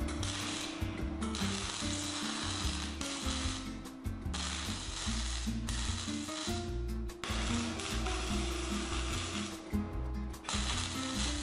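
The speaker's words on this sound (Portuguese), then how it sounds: "E é assim que funciona a solda MIG sem gás." Gasless flux-core MIG welding on a grounded metal workpiece, a continuous dense crackling buzz with rhythmic ratcheting pulses and brief breaks as the bead is laid, close and loud with no talk.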